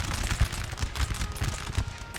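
Musket volleys in the Napoleon Total War video game, a distant rolling crackle of many shots with soft low thumps recurring every half second or so, fairly quiet and without voices.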